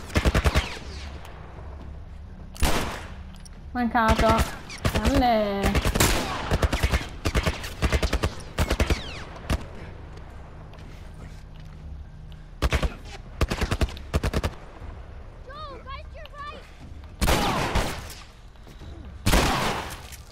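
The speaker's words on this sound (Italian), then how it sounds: "Ma chi è che mi sta sparando?" Game gunfire from The Last of Us: repeated bursts of automatic and single shots, loud and sharp, scattered across the scene between quieter stretches, with some tonal in-game sounds in between.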